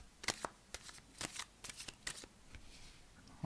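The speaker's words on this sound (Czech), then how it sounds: "vytáhnu tři karty startu pana Rohlíčka" Tarot cards being shuffled and drawn by hand: soft crisp riffles and slaps of card stock in irregular bursts, quiet and close with no talk.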